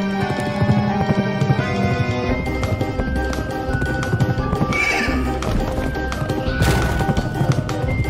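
A horse neighs in the Pumpkin Jack video game, its whinny rising over continuous game music with clip-clop hooves and occasional crashing effects, moderately loud and with no talk.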